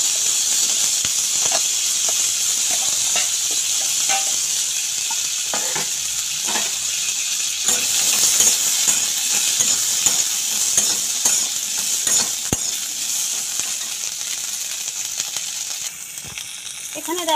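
Sweet corn kernels frying in melted butter in a pan, a loud steady hissing sizzle with repeated scraping stirs and occasional clinks, heard up close throughout, easing slightly near the end.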